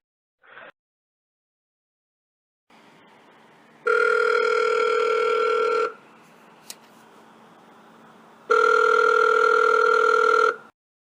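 After a dropped phone call, a telephone line sounds two long, loud steady tones, each about two seconds long. They are separated by a quieter stretch of faint line hiss and a brief click, and a short blip comes near the start.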